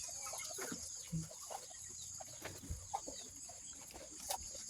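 Chicks and fowl in a farm nursery clucking and peeping in scattered bursts over a steady background hiss, fairly close.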